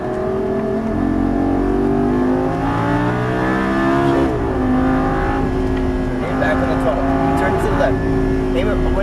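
On a race track, a Lamborghini Gallardo LP550-2 V10 accelerates hard with loud, steady engine roar and gear changes inside the cabin, while an instructor talks over it.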